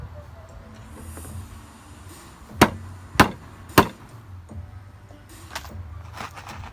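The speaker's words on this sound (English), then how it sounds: "Then you hammer them in." Legs being hammered into an oak dining chair: three sharp, loud wooden blows about half a second apart, then two softer knocks, over quiet room noise.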